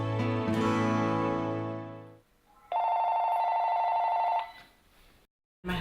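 A household telephone bell rings in two bursts: a first loud, harmonically rich ring that trails off, then after a short gap a second steady electronic-sounding ring of about two seconds, with a brief sound at the very end.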